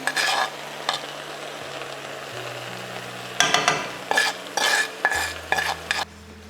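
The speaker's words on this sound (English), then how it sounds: "I'm gonna pour in my mixture. And you want to actually hear that sizzle" A Baghali polo mixture of rice and fava beans sizzles as it is poured into a hot pan, with a steady frying hiss broken by bursts of scraping and stirring against the pan, no talking.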